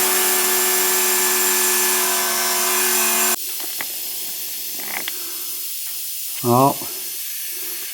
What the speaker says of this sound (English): I hear something leaking.